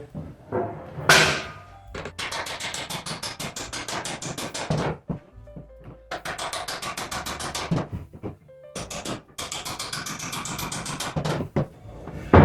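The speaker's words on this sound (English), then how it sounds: "Put a bit of weight on the upright and then just drive a nail in." A hammer drives a nail into the upright of a handmade wooden farmhouse door, heard as rapid, evenly spaced strikes in long runs with short pauses, loud and close.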